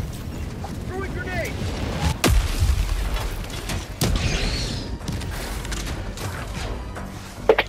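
Heavy booms from grenade blasts in Helldivers 2 punch through continuous battle noise, with two strong explosions and a later sharp crack over mechanical clatter.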